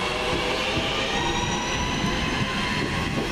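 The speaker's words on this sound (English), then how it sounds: "my train's now leaving" A train pulls out of Longbridge station with a continuous, loud rumble of wheels and carriages close by, steady throughout with no voices.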